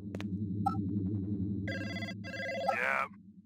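A telephone rings in the Blade Runner video game, two bursts of bright trilling rings over a low droning ambient score, fairly loud and close.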